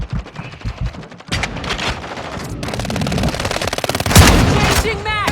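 Rapid bursts of close, loud machine gun fire in Warzone Mobile, joined by shouted callouts between the runs of shots and a sharp louder blast near the end.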